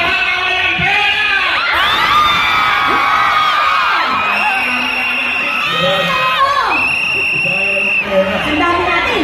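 A large audience at a live Filipino comedy-music show whoops, yells and cheers loudly and continuously, with rising shouts and screams layered over a dense crowd roar throughout.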